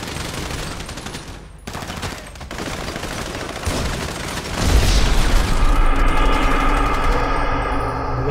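Gunfire erupts in GTA V during a roleplay bank robbery, with rapid bursts of shots, booms and continuous loud firing that builds in intensity toward the end, with a voice briefly audible in between.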